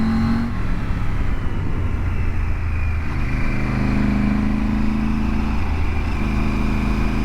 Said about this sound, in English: The engine's lovely, isn't it? It sounds really fruity.